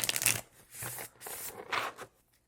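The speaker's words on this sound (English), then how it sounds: "This shuffle is really nice." A tarot card deck being shuffled by hand, three close, crisp riffling bursts of flicking cards separated by short pauses, with no talking.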